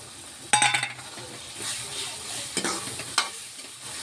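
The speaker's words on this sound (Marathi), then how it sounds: "आणि आता आपण ह्याच्यामध्ये मस्तपैकी टमाटर टाकू" Tomatoes tipped into a hot pan of frying masala, a sharp sizzling burst followed by scraping stirring and a second flare of sizzle, close and fairly quiet with no talking.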